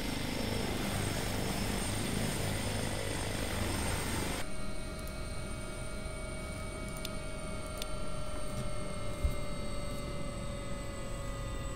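An AW139 air ambulance helicopter in a flight simulator touching down, steady rotor and turbine whine that cuts to a quieter idling hum with tonal whine, faint clicks, no talking.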